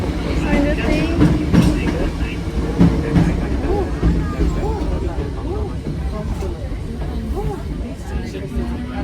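A Hakone switchback train runs along the tracks with steady rumbling and faint rhythmic wheel clatter, heard from inside among a murmur of passengers' voices.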